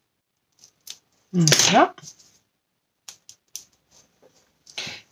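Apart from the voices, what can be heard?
scissors trimming excess material on a Christmas bauble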